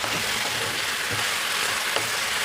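Seasoned minced meat filling with salt, chili flakes and black pepper cooks in a pan, giving a steady close sizzle with a few soft stirring scrapes and no talk.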